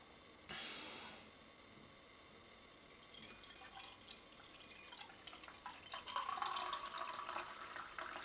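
Beer pours steadily into a glass, starting with a short hiss and building to a fizzing, bubbling rush, quiet and close.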